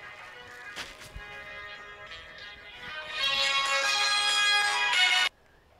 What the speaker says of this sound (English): Bloody phone.